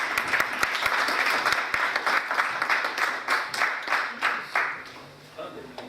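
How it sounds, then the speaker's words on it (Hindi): A church audience applauds to welcome a visiting pastor from Lahore, clapping loudly at first and then thinning into separate, uneven claps that fade toward the end. "तालियों की गूंज में प्लीज़।"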